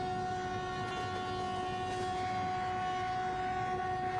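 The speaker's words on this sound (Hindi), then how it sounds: "ट्रैक साउंड्स के बारे में ज़रा सा रेट करना, कैसा लग रहा है ट्रैक साउंड।" Simulated train running steadily on track in a train simulator game, a continuous loud rumble with sustained tonal hum and faint rail clatter throughout, no talking.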